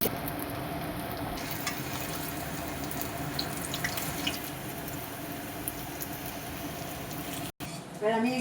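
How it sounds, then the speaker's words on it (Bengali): Vegetable spring rolls dropped one by one into hot oil, a dense continuous close sizzle that cuts out briefly near the end before resuming. "এবার আমি এগুলোকে তেলে ভেজে নেব। আমি এগুলো একটা একটা করে ছেড়ে দিচ্ছি।"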